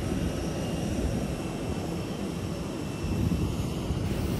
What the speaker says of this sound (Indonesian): Pesawat ini merupakan A320 dengan subtipe 214. Merupakan pesawat narrowbody dengan mesin twinjet.